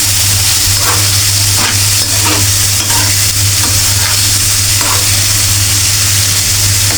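Thinly sliced onion and chicken fry together with spices in a pan for a vegetable roll filling, a loud, continuous hissing sizzle with a few soft stirring strokes underneath and no speech.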